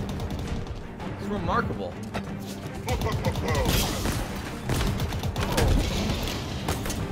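Dense gunfire crackles in rapid, overlapping bursts as enemies shoot in Halo Infinite, loud and continuous with mechanical clanks mixed in, while someone talks over the shooting.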